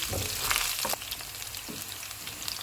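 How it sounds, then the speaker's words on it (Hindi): Garlic and green onion whites frying in oil for fried rice: a close, continuous sizzle with a brief louder crackle at the start, then occasional stirring taps. "अब इसमें ग्रीन प्याज का वाइट वाला पार्ट डाल देंगे। इसको हम 1 मिनट तक फ्राई करेंगे।"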